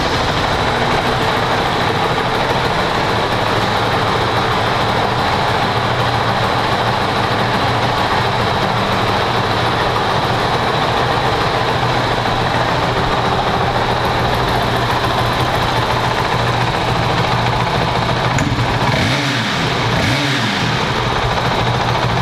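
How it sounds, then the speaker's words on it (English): A 2022 Honda CRF450RL motorcycle engine idles steadily and loudly up close for over twenty seconds, a constant running drone with a brief change in tone near the end and no talking. "Let's go ahead and fire it up and listen how it sounds."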